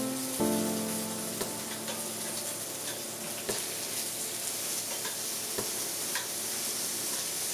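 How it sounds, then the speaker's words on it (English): Thin pork slices searing in hot butter in a pan, a loud, dense, continuous sizzle beginning abruptly as the meat goes in, with occasional clicks and taps of a utensil, no talking. "when the butter is hot, we're going to sear each side of the meat, very briefly until it's just cooked"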